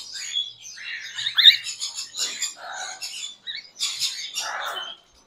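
A pair of cockatiels calls in short bursts of shrill chirps and squawky whistles, near and fairly loud, with no voices.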